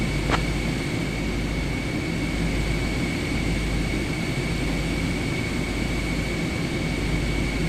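Airplane engine idling and taxiing toward gate Mike 27 in Microsoft Flight Simulator 2024, a steady low rumble with a faint constant whine above it, even and continuous with no talk.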